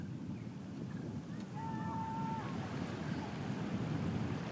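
Ocean surf pounding an eroding coastline in Senegal, where the sea is attacking the trees, with a low continuous wash of waves and wind rising slightly partway through; a faint brief tonal sound passes in the middle.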